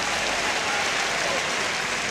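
An audience applauding Jan Dirk de Groot at a Frisian PC Frjentsjer 2015 event, a steady, dense wash of clapping from a large crowd, loud and unbroken throughout the short stretch.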